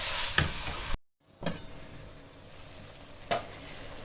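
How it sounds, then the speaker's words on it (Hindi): A cabbage, mince and potato curry stirred in a pan and left cooking on low heat, with soft sizzling and a few distinct spoon scrapes and clacks against the pan, fairly quiet, with a brief silent break. "इन दोनों को अच्छी तरह मिक्स करूँगी और हल्की आंच पे इसको पकने के लिए मैं छोड़ दूँगी"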